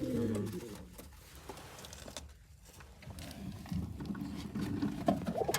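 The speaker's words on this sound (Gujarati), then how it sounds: "તો જોઈ લીધા આપણે બધા કબૂતર હવે નીકળી જાય બહાર" Pigeons in a collection of rare pigeons coo softly at close range, with light patter and rustling and faint voices in the background.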